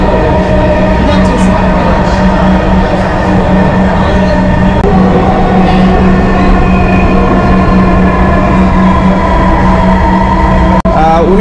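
A Dhaka Metro Rail train eases its speed as it nears a station, a loud, steady electric hum and rolling rumble heard from inside the car, with a brief sharp click near the end.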